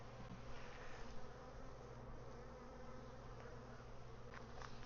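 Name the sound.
honey bees buzzing at an open hive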